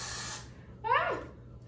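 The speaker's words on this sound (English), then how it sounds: "I basically just spray my hairline and I'm gonna let it dry." Got To Be hair spray misted onto a hairline, a single short hissing burst of about a third of a second, close and clear, followed by quiet.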